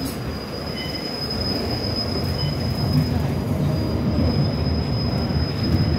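A train rolls into its last stop at Coney Island with a steady rumble and a sustained high-pitched wheel squeal, loud and continuous.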